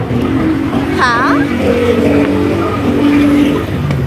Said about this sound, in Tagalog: Yun na yung bus namin.